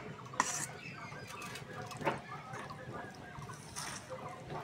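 Metal cooking pot lid lifted off with a few close clinks and scrapes of metal, set against a soft background hiss and faint voices.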